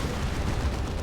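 A Manticore Strike rocket barrage in Dawn of War 2: Retribution, a dense rumbling mass of explosions and impacts crowding together, loud and continuous for a brief moment without talk.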